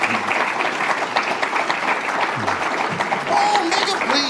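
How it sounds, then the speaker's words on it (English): An audience claps for the panelists after a discussion on guaranteed income programs for new mothers, a steady wash of applause from a crowd that carries on for several seconds. "Would you give the panelists a round of applause"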